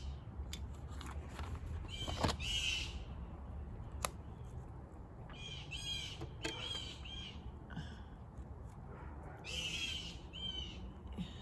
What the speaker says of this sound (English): I wonder who these birds are that are squawking.